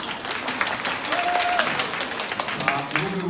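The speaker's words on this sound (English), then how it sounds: "More applause." An audience applauding at a talk-show style presentation event, a steady wash of clapping heard at moderate distance with a voice speaking over it.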